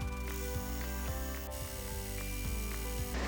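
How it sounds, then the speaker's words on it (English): An embroidery machine sewing satin stitches on an ornament towel topper runs steadily, a dense mechanical whir with a regular, rapid needle rhythm throughout, fairly loud and close with no talk. "and we're going to finish up with our satin stitching."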